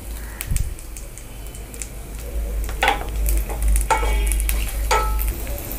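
Green chillies, curry leaves, dried red chillies and turmeric frying in oil for variety rice, with a low steady sizzle broken by several sharp spatters and stirring scrapes close up.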